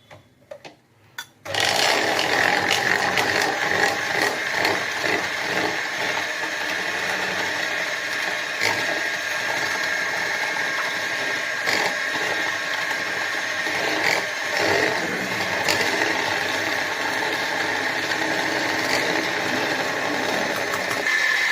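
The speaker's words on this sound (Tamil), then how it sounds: "இதை கொஞ்சம் கொஞ்சமா நம்ம சேர்த்து எக்கை வந்து நல்லா பீட் பண்ணிக்கலாம்." Electric beater whipping eggs with powdered sugar: the motor starts abruptly after a few light knocks and whirs on steadily and fairly loudly for about twenty seconds, with rattling as the beaters hit the bowl.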